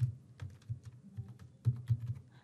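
Keys clatter on a computer keyboard in quick, uneven bursts of close, soft taps, quiet and with no talking.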